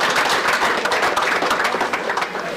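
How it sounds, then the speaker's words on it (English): A brief round of applause from a small group, steady overlapping claps held at an even level for a couple of seconds with no voices over it. "A round of applause for that"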